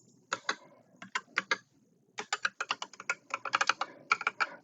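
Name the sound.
typing a password on a computer keyboard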